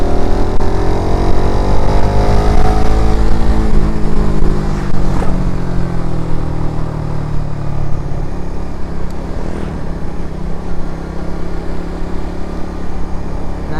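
Suzuki motorcycle engine running in fourth gear at about 3000 rpm, a loud, steady drone with rising and falling harmonic tones, heard up close while riding, with no talk over it.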